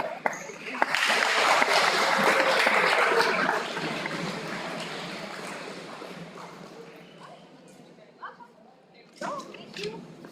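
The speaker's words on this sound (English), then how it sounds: "Give them a round of applause" Applause from an audience honoring seniors at the Ithaca High School awards ceremony, a loud rush of clapping that holds for a few seconds and then thins out to scattered claps as a voice begins speaking.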